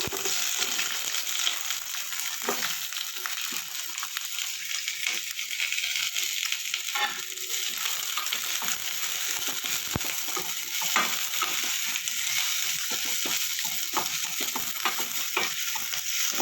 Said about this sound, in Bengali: ওদিকে পেঁয়াজটা ভাজা হতে থাক